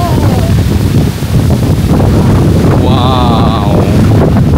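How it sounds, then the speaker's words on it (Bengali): Strong wind in the Maldives roars and buffets the microphone without a break for several seconds, with a faint voice underneath and a brief high whistle near the end. "প্রচুর পরিমাণে বাতাস।"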